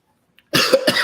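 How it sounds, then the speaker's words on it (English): A single short, harsh cough burst close to the microphone, followed by a second quick cough, with nothing else around it. "If I have a coughing fit, apologies there."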